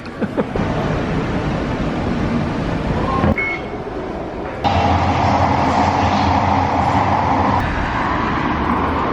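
A Singapore metro train rides along with a loud, steady rumble and rolling rail noise, cutting briefly quieter before surging back to a constant roar; no voices.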